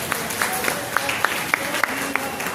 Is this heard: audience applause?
yes